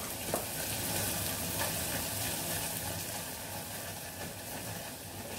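Butter sizzling and frying steadily as it melts into hot caramel in a multicooker while being stirred with a wooden spoon, a continuous close crackling hiss with no talk.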